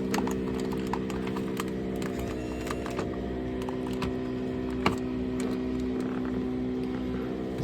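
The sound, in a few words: Volvo Penta 4.3 boat engine starting and running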